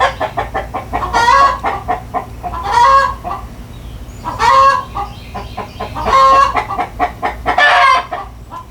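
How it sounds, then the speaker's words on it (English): Chickens on a farm fill the air: a hen laying an egg clucks steadily while a louder rooster breaks in with repeated bursts of raucous calls, close and prominent throughout. "The steady one is the hen that's getting ready to lay the egg, or laying an egg as we speak."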